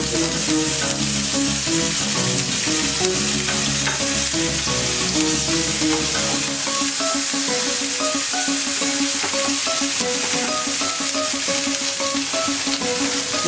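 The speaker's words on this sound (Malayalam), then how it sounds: "ഇപ്പോൾ പാൻ ഇവിടെ ചൂടായിട്ടുണ്ട്. നമുക്ക് അതിൻ്റെ അകത്തോട്ട് ജിഞ്ചർ ഗാർലിക് പേസ്റ്റ്" Ginger garlic paste fries in a hot pan with a loud, continuous, close sizzle that holds steadily throughout, alone without any talking.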